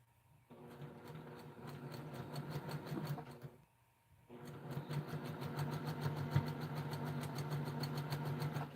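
A sewing machine stitches quilt blocks in rapid, steady mechanical runs, a whirring chatter that starts, pauses briefly for about a second, then resumes steadily for several seconds, with no talking.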